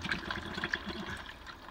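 Water runs steadily into a motorhome toilet bowl during winterizing, a continuous rushing and trickling flow at close range with no talking.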